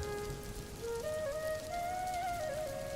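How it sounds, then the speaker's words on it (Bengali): Steady rain pours down in a stormy cartoon scene, a continuous close hiss that runs beneath sustained melodic tones for the whole stretch. "বাইরে কিন্তু প্রচুর ঝড় বৃষ্টি হচ্ছে"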